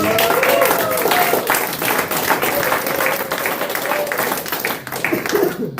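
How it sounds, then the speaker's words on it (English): A comedy club crowd claps steadily and fairly loudly throughout, with a few voices faintly audible beneath the applause. "I want y'all to give a round of applause for my boy Tony, man."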